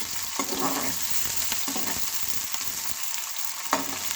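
Chunky onions frying in a pan for a Punjabi potato, carrot and pea sabzi, a steady close sizzle and crackle with a few stirring clatters, no voices.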